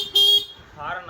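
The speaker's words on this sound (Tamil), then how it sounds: "ஹாரன் நல்லா அடிக்குதுங்களா?" A BS6 motorbike horn gives one short, loud electronic honk near the start, then a voice speaks briefly afterward.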